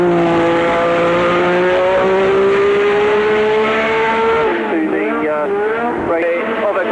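A 1984 Formula 1 car lapping Brands Hatch at about 165 mph, its engine a loud, high-pitched wail that holds steady before dropping and warbling as it slows, with a commentator talking over it.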